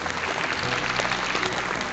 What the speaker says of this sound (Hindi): तो सर के लिए एक बार जोरदार ताली।